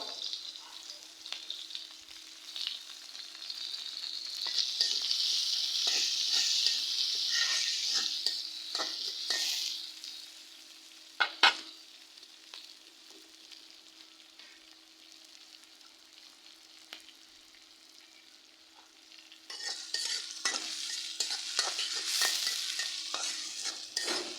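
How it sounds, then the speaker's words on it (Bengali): Green chillies and onions fry in a wok, a steady close sizzle with frequent stirring scrapes, fading quieter in the middle before the loud frying returns. "কাঁচামরিচ পেঁয়াজ কড়াইতে দিয়ে দিলাম"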